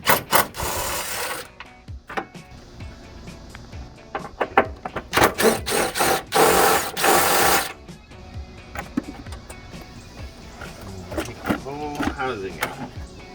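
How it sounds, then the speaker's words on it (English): A cordless drill spins a 10mm socket to back out two bolts holding the cold air intake housing on a 2007-2011 Toyota Tundra, giving short bursts of whirring broken up by clicks and handling noise, with talk in between. "I got the drill because it's a little easier with a 10mm socket"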